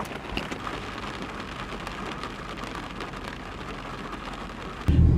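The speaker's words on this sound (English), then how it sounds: "We just gotta hope that the rain goes away." Steady rain falling at an outdoor car show, a constant close patter of drops on surfaces, with a sudden low rumble breaking in at the very end.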